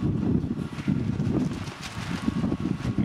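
Gusty outdoor wind buffeting the microphone in low rumbling bursts, steady and close throughout, with no voices.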